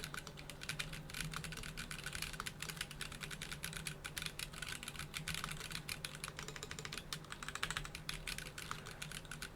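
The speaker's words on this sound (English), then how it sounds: "Can you hear the keyboard now?" Continuous rapid clacking of keys on a KBDFans D45 mechanical keyboard, steady and close, with no talking.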